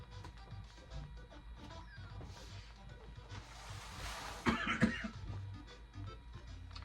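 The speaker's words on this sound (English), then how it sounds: "Pardon my coughing." A person coughs a few times near the middle, fairly close, over a low hum of background noise.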